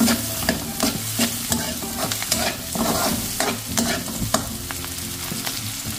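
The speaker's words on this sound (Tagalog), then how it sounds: "Igisa na po natin yung ating sibuyas saka yung bawang." Onion and garlic sauté in reused frying oil for a pakbet vegetable stew, a loud close sizzle broken by frequent rhythmic scrapes and knocks of a spatula against the pan.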